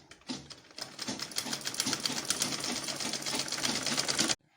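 Sewing machine stitching a shirt, running in a steady rapid rattling rhythm from near the start for about four seconds before stopping abruptly, loud and close with no talk.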